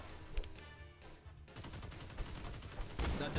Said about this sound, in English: every single gun has a shoot delay, has its own shoot delay